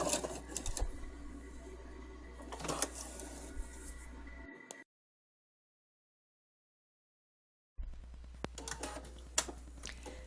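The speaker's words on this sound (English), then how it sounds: "And then just back stitch to hold everything in place and keep things from coming back out" A sewing machine back stitches a pullover seam, a close, rapid needle chatter over a low motor hum, broken by a stretch of total silence before the stitching resumes.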